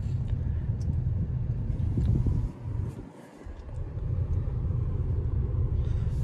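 Hyundai Creta diesel engine pulling steadily in third gear at low speed and low revs, a constant deep rumble with road and wind noise heard from inside the cabin, briefly dipping near the middle.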